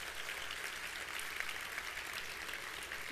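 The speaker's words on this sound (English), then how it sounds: "Give her a round of applause" An audience at a stage talk claps in a steady, dense ovation that sounds somewhat distant and even throughout, with no speech over it.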